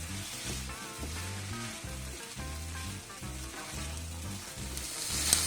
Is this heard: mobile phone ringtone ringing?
no